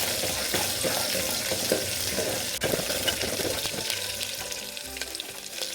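Half a chopped onion frying in a pan for sambar, a dense, loud, steady sizzle with occasional stirring scrapes, without any speech.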